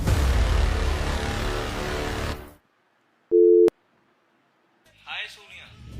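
A phone on speakerphone gives a short busy-signal beep in a quiet room, a single steady tone burst that follows a stretch of background noise and comes before faint talk.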